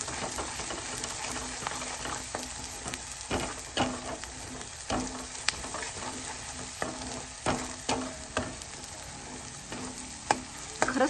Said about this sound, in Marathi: ते सुटेपर्यंत हा मसाला छान पुन्हा परतून द्यायचा